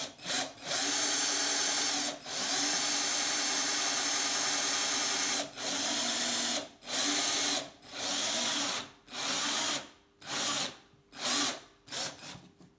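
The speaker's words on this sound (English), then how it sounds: "not to drill too deep, not to get the part hot or the drill bit hot" A power drill bores holes in a vintage Atala bicycle part, running in a series of steady whirring bursts separated by short pauses that grow shorter toward the end, close and fairly quiet, with no talking.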